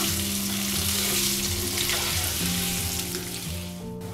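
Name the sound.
cubed potatoes frying with ginger and green chilli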